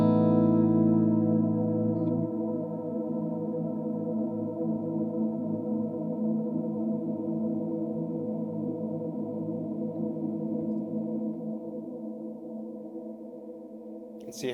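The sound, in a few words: reverb pedal holding a guitar chord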